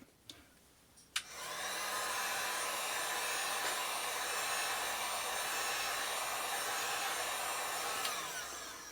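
A heat gun warms vinyl wrap on a car hood, starting after a couple of clicks and then running as a steady, loud, close blowing whir that holds unbroken for several seconds.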